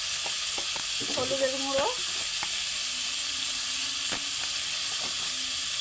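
Chili, turmeric and cumin powders hit hot oil with pumpkin and potato pieces, making a steady sizzle and hiss with some stirring scrapes near the start. Someone talks over the frying.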